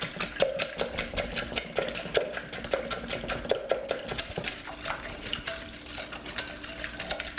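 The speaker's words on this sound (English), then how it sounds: "I just want to whisk that a little bit here to get that egg mixed up there." Egg being whisked in a bowl for Salisbury steak, a rapid, steady series of clinking taps and scrapes of the whisk against the bowl, close and fairly loud.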